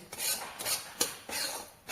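A utensil scrapes roasted semolina repeatedly across a pan, four or five rough, raspy strokes in quick succession, close up with no talking.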